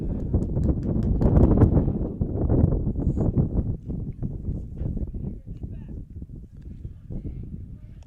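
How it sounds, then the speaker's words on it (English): Gusting wind buffets the microphone at an outdoor high school baseball game, producing a loud, rumbling low roar that swells early and then fades, while a commentator talks throughout. "As we get another big gust of wind."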